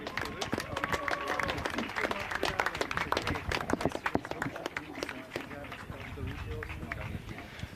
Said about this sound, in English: Just a big applause for our winner, Theo Auberhaus from Germany.